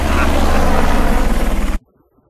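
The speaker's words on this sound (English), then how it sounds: "I'm flying a helicopter!" A helicopter in the Shaun White Skateboarding video game makes a loud, close, steady rotor roar with rapid blade chop, then cuts off abruptly into silence.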